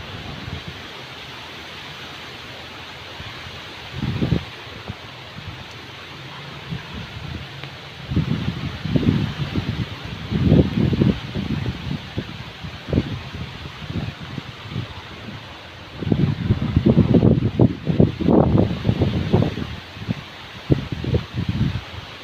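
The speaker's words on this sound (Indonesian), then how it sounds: "Anginnya sangat kencang." Strong, gusty wind buffets an outdoor spot during eel fishing, with broadband roar and repeated louder surges of blustering rumble over the microphone, rising especially in the second half and fading between bursts.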